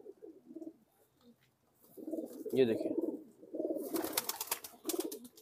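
Dubwale and kamagar pigeons give soft, repeated throaty coos nearby, with a brief spoken remark over the birds and a burst of rustling near the end.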